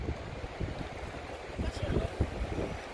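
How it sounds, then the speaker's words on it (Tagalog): Steady wind and breaking surf on the beach at Colwyn Bay, a broad rushing wash with rolling swells, fairly close and moderately loud throughout. "Ang ganda ng beach namin dito, di ba?"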